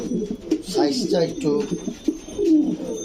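Boulder pouter fancy pigeons coo close by in a series of deep, rolling, repeated calls. A person talks over the birds.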